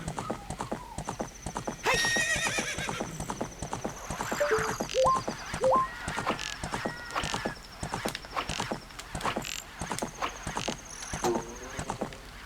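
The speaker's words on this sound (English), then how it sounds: "Please get off the horse, Link" Horse in the video game The Legend of Zelda: Ocarina of Time, rhythmic clip-clop hooves at a steady pace with a neigh early on, mixed with game sound effects and faint talk.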